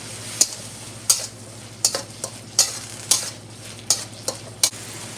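Beansprouts and eggs frying in a pan with soy sauce, a soft sizzle under regular loud scraping strokes of a spatula against the pan, about ten in a row.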